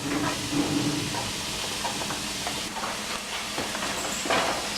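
Mushrooms and onion sautéing together in a pan give a steady, close hiss and sizzle with faint scattered pops throughout, and no voices are heard.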